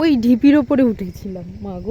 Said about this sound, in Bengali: এখনো প্রায় ঝিঝির ডাক শুনতে পাচ্ছি